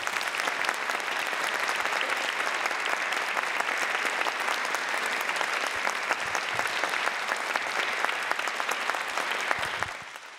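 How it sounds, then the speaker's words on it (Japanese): Sustained, dense audience applause fills a hall after a joint concert by four high school bands at a 2015 high school festival, steady throughout and tapering only at the very end. "皆さん最後に盛大な拍手をお願いいたします。"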